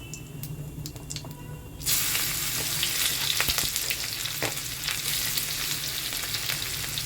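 Sliced onion and cumin seeds frying in hot oil for a tadka, a steady loud sizzle that bursts in suddenly after a quiet start and keeps crackling continuously, with no talking.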